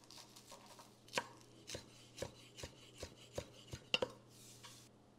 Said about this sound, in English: I'm going to chop up some cilantro